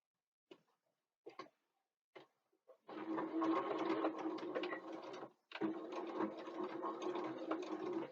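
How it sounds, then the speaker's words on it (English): Sewing machine stitching across the top of a bookbag with its pocket piece: a few soft clicks and taps first, then a steady close whirring run that stops briefly and starts again. "we'll just go to the machine now and sew right across"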